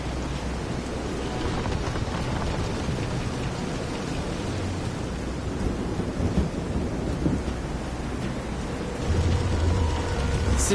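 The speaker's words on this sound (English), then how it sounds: "This is some storm." Heavy rain pours steadily through a stormy scene at sea in the video game Visions of Mana, a dense, loud roar with low thunder rumbling underneath and a swelling surge near the end.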